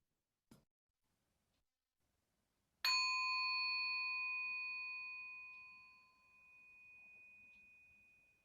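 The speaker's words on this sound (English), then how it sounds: "receiving the sound of the bell" A meditation bell is struck once after a faint tap, ringing with a clear sustained tone that slowly decays, then swells slightly again as it hums on, close and alone in a quiet room.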